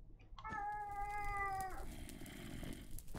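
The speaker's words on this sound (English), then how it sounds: "My cat has appeared." A pet cat gives a single clear, drawn-out meow close by, followed by a softer, rougher trailing vocalization over steady background noise.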